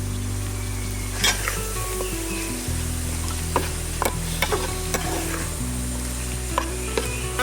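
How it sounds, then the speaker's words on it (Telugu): Chicken goes into a hot pan of ginger paste and turmeric for a chicken curry, giving a loud, steady sizzle of frying. Scattered metallic clinks and scrapes of stirring cut through the sizzle. "ఈ టైప్ వచ్చిన తర్వాత కేజీ చికెన్ అందులో వేసుకోవాలి"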